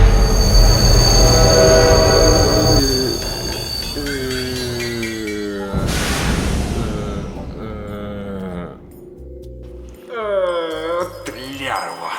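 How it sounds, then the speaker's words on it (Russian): Train arriving in Minecraft, with a loud rumbling, rattling game train and screeching, whistle-like tones that shift and fade, then a quieter stretch with short rhythmic clunks near the end. "Ну, походу, поезд приехал, да?"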